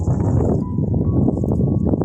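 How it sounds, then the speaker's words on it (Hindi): Strong wind sweeps through a hillside forest campsite, a loud, steady buffeting roar that presses against the microphone without pause. "बहुत तेज़ हवा चल रही है अभी"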